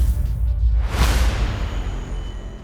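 Cinematic whoosh effect built for stingers: a dense rumbling bed swelling into a bright airy swoosh peaking around the one-second mark, then trailing off into a low sustained rumble.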